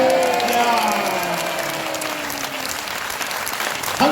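A crowd applauds steadily, loud and sustained for several seconds, with a faint tonal hum underneath.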